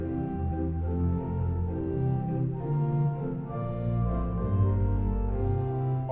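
Church chancel pipe organ playing the principal stop of the great manual, sustained chords and moving notes sounding steadily and fairly loud in a reverberant space, with no talking.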